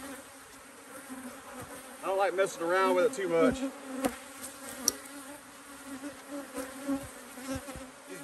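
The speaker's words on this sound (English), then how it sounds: "These bees are just pouring out of here." Honeybees swarm and pour out of a hive at an apiary during an inspection, a steady droning buzz throughout with louder passing buzzes near the middle, while someone talks over it.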